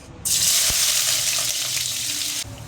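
Garlic dropped into hot cooking oil for mung bean stew bursts into a loud, steady sizzle right up close, holding for a couple of seconds before dropping off abruptly.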